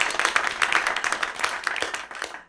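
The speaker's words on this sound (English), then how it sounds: "Huge round of applause for that" A seated audience at an indoor panel event claps in a dense, steady burst of applause for a couple of seconds, which then thins and fades out at the end.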